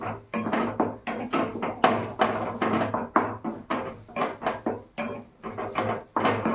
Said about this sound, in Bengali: আমি গ্যাসটাকে মিডিয়াম আঁচে রেখে আমি কষিয়ে নিচ্ছি।